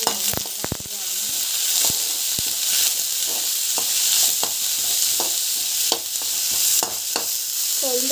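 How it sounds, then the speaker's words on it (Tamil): Onion frying with chilli in a pan, a loud continuous sizzle with scattered clicks and scrapes of a spoon stirring throughout. "ஆனியன் வந்து நல்லா ஃப்ரை ஆகணும்"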